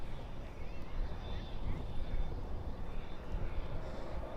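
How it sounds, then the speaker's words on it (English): A British Airways Airbus A380 rumbles at Dallas/Fort Worth airport at night, a continuous low engine roar with a thin whine above it. "And there's that British Airways A380, bright and ready for departure."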